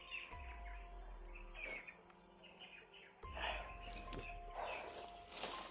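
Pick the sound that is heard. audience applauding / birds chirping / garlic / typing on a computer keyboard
birds chirping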